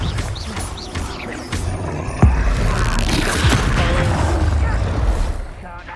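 A Confringo spell blast erupts in the video game Hogwarts Legacy with a sudden booming burst partway through, followed by sustained roaring magical battle noise, loud and close.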